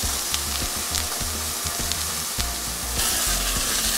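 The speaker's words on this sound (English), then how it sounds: "I'm just making the ham a little bit crispy." Flathead fillets wrapped in jamon fry in a hot pan, a loud, dense, continuous sizzle and crackle of fat close by, swelling slightly toward the end, with no talking.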